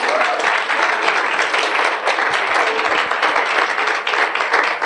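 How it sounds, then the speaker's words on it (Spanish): Congregation in a church service breaking into sustained applause, dense continuous clapping from many people at close range and fairly loud throughout. "si va a darle un aplauso, déselo al Eterno."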